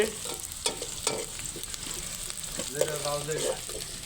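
Onions frying in a pan, a steady crackling sizzle with stirring scrapes and a few clatters, and brief indistinct voices underneath.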